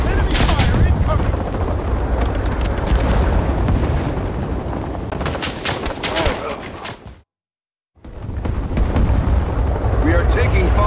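Gunfire in Rising Storm 2 Vietnam on a Green Army Men Christmas map: loud, dense bursts and rattling shots with booming blasts, continuous and close, cutting out briefly before resuming.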